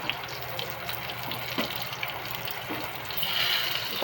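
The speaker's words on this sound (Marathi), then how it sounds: "हे बघा, मिरच्या भाजून चालल्यात." Green chillies roast in a pan for kande pohe, a steady soft sizzle and hiss that grows slightly louder toward the end, close by with no talking.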